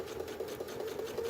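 A sewing machine stitches quilt binding with a fast, even needle chatter at close range, steady and fairly quiet, with no voices.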